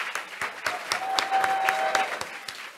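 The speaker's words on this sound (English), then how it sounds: "Another big round of applause for all of our sponsors this morning." An audience at a women's philanthropy fund breakfast claps for the sponsors, a steady round of fairly close, distinct hand claps lasting a few seconds with a faint tone running beneath.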